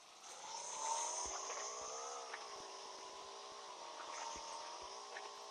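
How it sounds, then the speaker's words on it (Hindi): Motorbike engine in PUBG Mobile, ridden at high speed along the roads of Zarki, a steady buzzing drone that rises and falls slightly with a few faint clicks, continuous and fairly loud with no talk. "बाइक जा रही है 180 की स्पीड से जर्की के रोड को चीरते हुए।"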